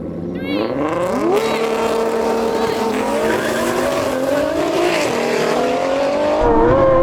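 Drag race cars, a modified BMW M140i and an Audi, accelerating hard side by side, engines rising through the revs with tyre squeal, loud and close throughout.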